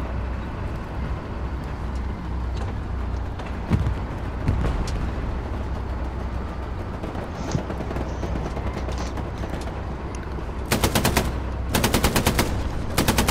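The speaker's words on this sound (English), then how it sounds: "Like where I'm shooting." Rapid gunfire in the World War II game Hell Let Loose, with scattered single shots and then dense bursts of automatic fire near the end over a constant battlefield rumble.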